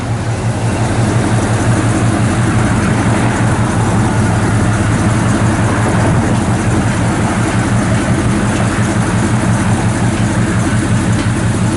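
The engine of a 1984 Chevrolet K5 Blazer idles loud and close, a steady low rumble with an even throb that holds unchanged throughout, no voices.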